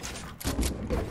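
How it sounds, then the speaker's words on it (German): Rapid bursts of gunfire in the video game Fortnite, several sharp shots fired in quick succession within about a second and heard close and fairly loud. "Komm, ich knall ihn jetzt."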